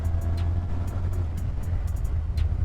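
A Honda Rebel 125 twin motorcycle running on its original exhausts gives a steady, close, even engine drone with a low throbbing note and faint ticking on top, with no voices.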